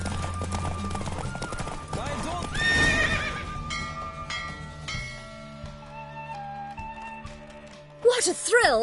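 A horse neighs and gallops during a race in The Witcher 3, with loud whinnies near the start, middle and end over steady hoofbeats, while voices talk over it.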